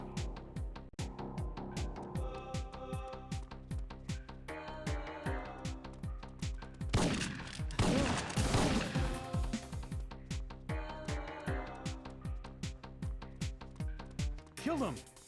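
Gunfire in the PS1 video game Syphon Filter, rapid repeated shots in a steady rhythm with a few louder bursts and crashes in the middle, playing under a person talking.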